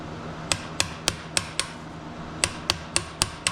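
A hammer strikes a socket to drive a pilot bearing into a Chevy/GMC GMT400 truck during an LS swap, giving about eleven sharp metallic taps in an uneven rhythm over a steady background hum.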